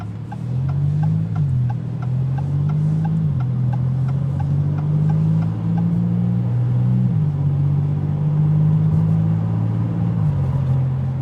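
Maserati MC20 Cielo supercar exhaust giving a steady, deep, droning rumble that wavers slightly in pitch, loud and close, without speech.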